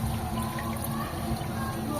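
Water runs and trickles steadily into a crayfish grow-out tank, a continuous pouring stream that stays fairly loud and even throughout without a break.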